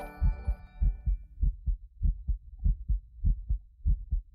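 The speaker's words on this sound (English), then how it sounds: "that's the Phasmophobia heartbeat" The Phasmophobia video game plays its ghost-hunt heartbeat effect, a steady series of deep, thudding double beats repeating clearly, alone after a brief faint tone at the start.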